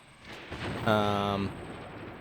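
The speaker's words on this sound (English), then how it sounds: "What are we taking fire from for this? Oh, they're throwing grenades at it." Bursts of gunfire and grenade explosions in a WW2 simulator video game, a loud rumbling blast with a ringing tonal tail rising out of steady battle noise, with a voice talking underneath.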